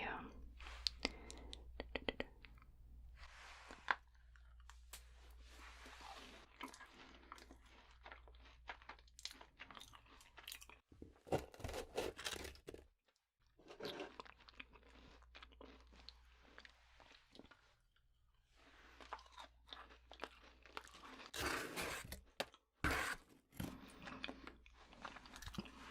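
Close, whispery eating of pizza, with crunchy bites, wet chewing and small clicking mouth sounds arriving in uneven bursts between quiet gaps, while soft speech runs through parts of it.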